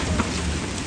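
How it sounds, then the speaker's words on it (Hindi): Hail pelting down during a storm in Lahore: a dense, steady, loud roar of impacts with no pauses and no voices. "कल लाहौर में ओले पड़ने शुरू हो गए हैं जनाब, ये देखें"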